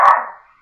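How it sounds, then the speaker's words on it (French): A single sharp dog bark, loud and close, with a short ringing tail that fades away within a fraction of a second. "vous venez d'entendre mon chien"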